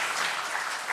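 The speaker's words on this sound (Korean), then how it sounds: "여러분 격려하고 환영하는 박수를 보내주시기 바랍니다" Church congregation clapping to welcome a new children's ministry pastor during a Sunday worship service, a steady dense patter of many hands filling the room for about a second.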